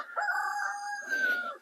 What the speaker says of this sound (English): that's our rooster